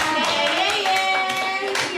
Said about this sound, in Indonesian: Tepuk tangan dulu untuk Nafisa.